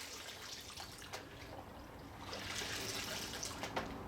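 Water runs and drips softly while a dusty shop vac filter is washed, a quiet steady flow that grows slightly fuller partway through, with no talking.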